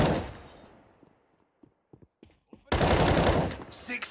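Automatic weapon fire in the Counter-Strike video game: an opening burst fades, then several short sharp shots, followed by a loud sustained rapid-fire volley at close range.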